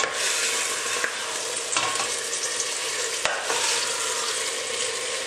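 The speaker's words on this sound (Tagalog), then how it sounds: "Prito-prito muna po natin yan." Steady, dense sizzling of chicken frying in a pan, with a few brief scrapes of stirring, close and continuous without speech.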